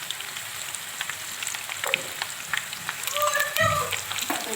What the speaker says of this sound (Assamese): তেলখিনি গৰম হোৱাত পিঁয়াজখিনি ভালকৈ ৰঙচুৱা হোৱাকৈ ভাজি আছে